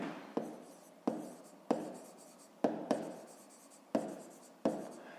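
Digits are handwritten with pen on paper in about seven crisp, separate strokes, each with a sharp tap and a short scratchy fade, quiet and close with no talking.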